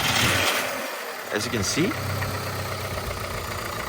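A cheap used car with a 75-horsepower engine idles steadily, and a couple of quick revs rise and fall partway through. The engine hums loudly and close throughout, with a person talking over it.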